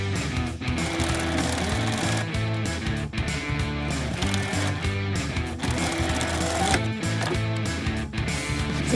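A sewing machine stitches denim for a Uniqlo jeans remake tote bag, a close, steady rapid mechanical chatter with slight rhythmic variation throughout.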